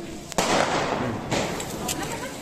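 Firecrackers going off for Diwali: a sharp bang followed by a dense crackling spray of small pops, with another burst a moment later, loud and close.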